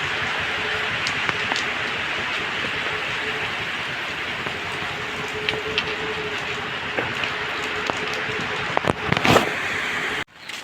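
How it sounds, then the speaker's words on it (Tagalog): Heavy typhoon rain from Aghon pouring steadily in Cavite, a dense continuous hiss with scattered louder drops and knocks near the end before it cuts off abruptly. "Pero dito sa amin ang lakas lakas ng ulan"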